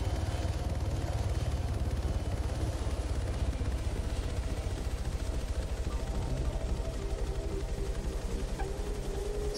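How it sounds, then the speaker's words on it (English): Helicopter in the Arma 3 military video game, a steady close rotor and engine drone that holds at an even level throughout. "Special, step out of the helicopter."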